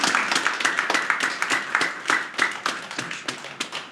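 Audience applause after a live poetry reading by Pushcart Prize winner Ron Koertge, with steady, close, dense clapping from a small crowd that runs throughout.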